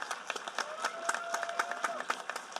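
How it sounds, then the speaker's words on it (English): Graduation ceremony crowd giving a round of applause, dense irregular clapping spread through the hall with a faint voice or tone running underneath. "certainly deserves yet another round of applause from everyone"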